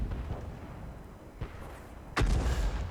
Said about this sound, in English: And there we go, first shot of the game, 432 damage